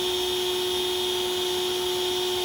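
Small 180 DC motor spinning at around 18,000 rpm on a 5-volt supply, a steady high-pitched whine with a constant tone and no variation, close by.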